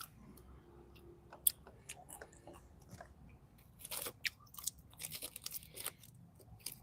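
Crispy roasted peanuts crunch between the teeth during a meal, bites and chewing near and faint at first, then growing into denser, louder crunches, with no talking.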